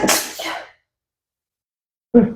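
Single sharp sneeze from a person on a podcast, a burst of breathy noise followed by a short tail, then silence and a brief spoken response near the end.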